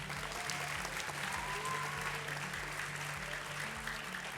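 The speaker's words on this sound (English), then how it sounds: "Let's give all our guests a big round of applause again." A live podcast audience applauds its guests on stage, a steady dense clapping that holds at an even level throughout with no break.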